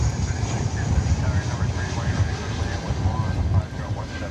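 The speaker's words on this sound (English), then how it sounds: "As we look at this American Airlines flight coming in from Monterrey, Mexico." An American Airlines jet arriving at DFW Airport from Monterrey, Mexico, rumbles with a low, fluctuating engine roar, moderately loud and slightly distant, while people talk over it.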